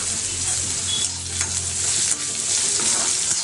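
Ginger frying in a pan of hot oil while preparing hotel-style Mysore bonda, a loud steady sizzle with occasional stirring scrapes, close up and without talk.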